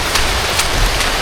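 Steady rain falling outdoors, a loud, close, continuous hiss of drops on surfaces with faint periodic spatters and no voices.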